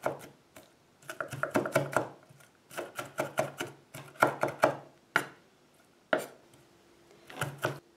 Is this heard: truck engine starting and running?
no